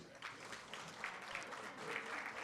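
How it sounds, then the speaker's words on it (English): Sustained audience applause at a Teacher of the Year ceremony honoring elementary and middle school teachers, a steady even patter of many hands filling the room at moderate volume without a break. "let's keep that applause up for the people now"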